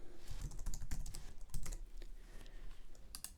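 Someone types on a computer keyboard while entering code. Rapid clusters of key clicks come close and fairly quiet, with brief pauses between bursts and no voice.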